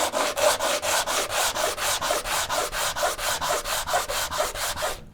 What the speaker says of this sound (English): And then after we do that, we'll come through with the sander